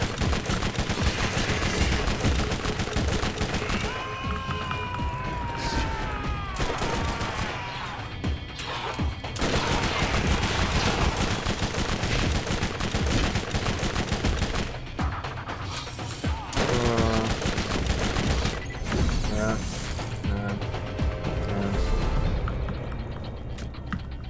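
Guns firing in the Borderlands video game: loud, dense bursts of rapid gunfire with mechanical clanks and crashes, continuing almost without pause.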